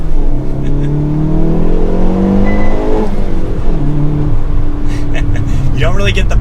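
A 2022 Hyundai Veloster N with a six-speed manual revving hard, the engine note climbing through gears with crackling exhaust pops, loud and close, while someone talks over it.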